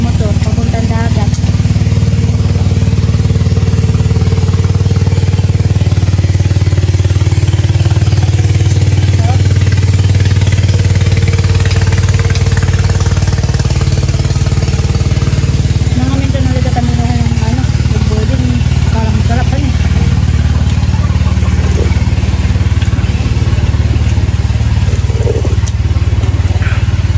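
Motorbikes running along a riverside path to the sea, a loud steady engine drone with shifting revs throughout, with voices talking over it.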